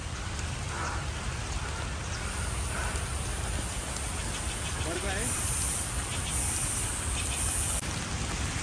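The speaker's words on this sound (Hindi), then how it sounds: "बारिश शुरू हो चुकी है तेज़" Heavy monsoon rain pours down steadily in the Parvati Valley, a dense, close hiss that lasts throughout, with faint voices underneath.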